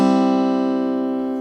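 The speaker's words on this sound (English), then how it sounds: "just strum from the 3rd string through like this" A single three-string chord strummed with a pick across the third, second and first strings of a guitar, ringing out steadily and fading slowly, close and clear with no talking.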